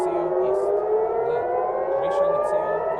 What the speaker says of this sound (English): we're hearing sirens sounding here across Tel Aviv again